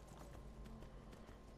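Horse hooves clip-clopping in Skyrim as a mount climbs a rocky slope, a quiet run of irregular hoof strikes alone in the game soundscape.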